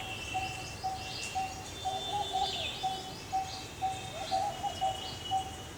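A small bird repeatedly calls with short, regular notes in a fruit garden planted with banana and fig trees, rising above a steady background of other faint birdsong and ambient noise.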